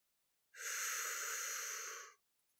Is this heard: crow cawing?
no